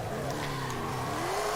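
A large Ford F-250 drag car doing donuts, its engine droning steadily and loud while the tires squeal with a rising, sustained screech.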